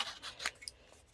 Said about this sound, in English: I've just got my scissors and then just fussy cut around it,